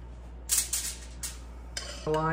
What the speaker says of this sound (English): you're just spooning out of jars or cans or whatever